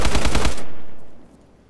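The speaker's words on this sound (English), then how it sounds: "As you can tell, the bullets are ricocheting" Rapid automatic gunfire aimed at an armored jeep, a loud close burst of several quick shots in a tight rhythm, cut off abruptly and followed by a fading echo with no talking.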